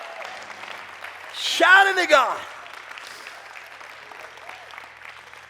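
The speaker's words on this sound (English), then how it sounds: "Oh, clap your hands, all you people." A church congregation claps along during worship, a steady, fairly soft patter of hands beneath a loud shouted voice that rises briefly in the middle.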